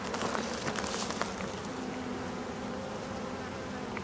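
A dense mass of honey bees from a rescued hive with brood, somewhere in Elfin Forest, buzzes continuously and loudly up close, a steady droning swarm with no talk.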